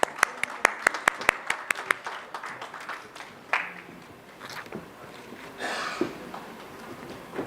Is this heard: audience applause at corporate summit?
yes